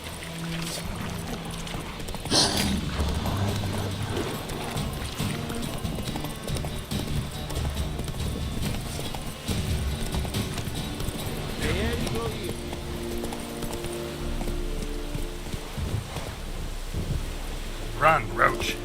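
Roach the horse gallops in The Witcher 3, steady hoofbeats running under rain and rumbling thunder with game music and a voice speaking over them.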